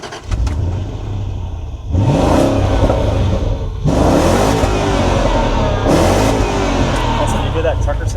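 A Land Rover LR3 with a 4.4-liter V8 revs in several loud bursts, rising and falling over a running idle, while people talk nearby.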